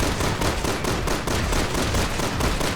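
Rapid, sustained automatic gunfire from the video game Resident Evil 6 rattles on without pause, loud and close, as a dense rhythmic stream of shots with no voices.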